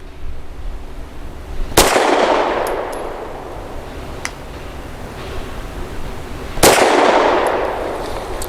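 A Walther PDP 4-inch compact pistol fired at a target on an outdoor range: two sharp, loud single shots about five seconds apart, each with a short ringing echo, against faint background noise.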